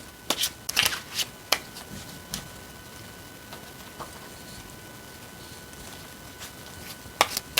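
Tarot cards being shuffled and drawn, a few quick papery riffles and snaps near the start and again at the end with quiet gaps between.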